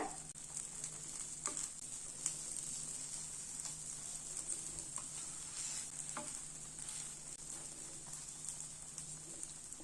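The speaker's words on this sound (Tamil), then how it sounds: "இப்போ கொஞ்சம் ஆயில் விட்டுக்கலாம். மீடியம் ஃப்ளேம் வச்சுக்கோங்க, ஃபுல்லாக வைக்காதீங்க, அடியில் கருக ஆரம்பிச்சிடும்." Egg omelette for a bread omelette frying in oil in a pan over a medium flame, giving a steady close hiss of sizzling with faint scrapes and taps of a utensil, no voices.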